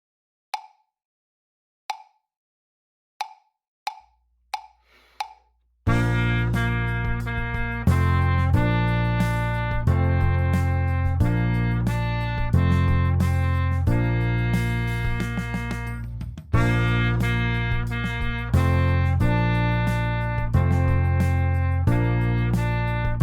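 A few soft clicks tick steadily before a sustained trumpet melody, Au clair de la lune, starts over a deep synth backing, bright and prominent throughout.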